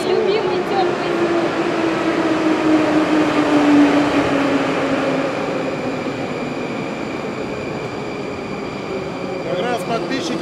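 An EZh-3 metro train arrives at an underground station, a loud continuous rumble and whine with a descending tone as it slows, filling the platform without pause.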